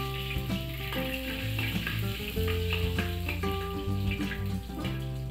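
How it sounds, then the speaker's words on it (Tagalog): Garlic frying in very hot oil in a pan, a constant crackling sizzle that runs underneath tuneful background music, with occasional clinks of a utensil. "Ayan, mabilis na nag-golden brown ang bawang dahil sa sobrang init ng mantika."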